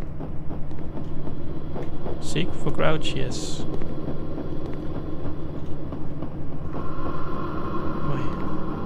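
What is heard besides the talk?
ominous train-like rumble in the video game Erased Backrooms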